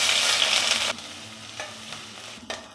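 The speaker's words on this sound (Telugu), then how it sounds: "ఈ ఎర్రగడ్డని ఫస్ట్ ఎర్రగా వేయించుకోవాలి" Onions fry in oil for pepper chicken, a loud bright sizzle that drops suddenly to a quieter crackle, with a couple of stirring scrapes near the end; no speech.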